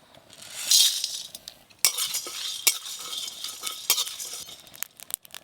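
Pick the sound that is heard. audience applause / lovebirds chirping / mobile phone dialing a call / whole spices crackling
whole spices crackling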